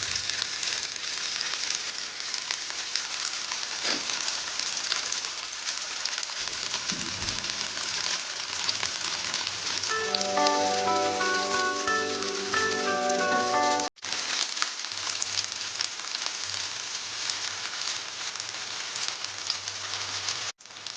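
Paneer roasting slowly in a pan gives a constant close sizzle and crackle, an even frying hiss throughout with a brief drop partway through, and no voices.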